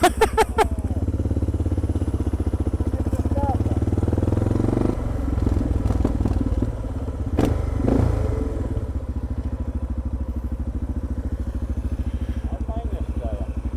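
A loud Suzuki motorcycle engine idles with a rapid, throaty exhaust pulse close by, its dB killer removed, joined by a few clanks and a brief rev.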